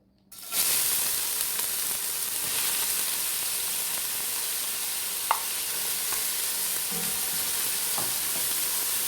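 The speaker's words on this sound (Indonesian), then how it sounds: "Sekarang kita akan tumis dulu bawang merahnya." Shallots sizzle in hot oil in a pot, a steady bright frying hiss that starts abruptly and continues, with occasional clicks of stirring and no talk.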